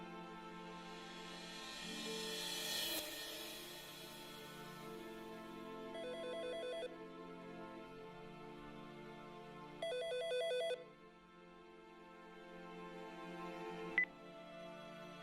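A telephone ringtone plays steadily, alone and clear, with repeating electronic ring bursts over a sustained tonal pattern, in a scene from the 2011 film The Life Zone.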